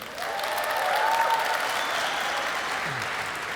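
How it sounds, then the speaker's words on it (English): Applause from a theater audience during a comedy roast show, a dense sustained clatter of many hands clapping at steady loudness, with a few faint whoops over it and no talking. "Round of applause if you're not a Dutch person."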